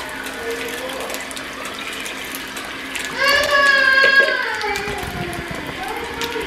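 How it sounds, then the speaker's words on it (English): Fresh water pours into a pot of Asian-inspired vegan soup, a steady close splashing and trickling, with a brief tonal ringing sound in the middle as the pour continues, no talk. "so I'm just going to add some fresh water now."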